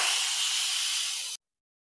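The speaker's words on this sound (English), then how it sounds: "Now the Instant Pot is done cooking, so let's quick release the steam." An Instant Pot pressure cooker vents steam during a quick release, giving a loud, steady broadband hiss that holds for over a second and then cuts off abruptly into silence.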